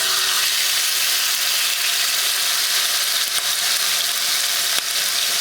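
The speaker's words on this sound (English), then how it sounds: "heat up the wok. And I already have a couple of tablespoons of peanut oil in it" Peanut oil sizzling in a hot wok over high heat, a steady bright hiss with faint crackles throughout.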